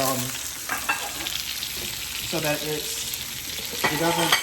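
Salmon fillets sear in oil in a pan with a continuous bright sizzle, broken by a few brief tonal clinks or squeaks of utensils and no speech.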